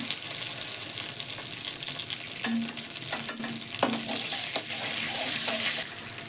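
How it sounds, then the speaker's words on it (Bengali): Asafoetida sizzles in hot white oil in a pan, a steady crackling fry with occasional sharp clinks of a utensil against the pan and a faint high hiss throughout. "আমি সাদা তেল দিলাম হিং দিলাম"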